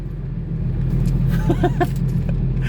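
Steady low engine rumble from inside a truck nicknamed Robocop, with a few brief mid-range tones and faint clatter over the drone.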